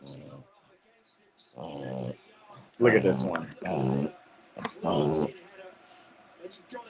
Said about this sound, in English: Oh, my dog's going crazy over here.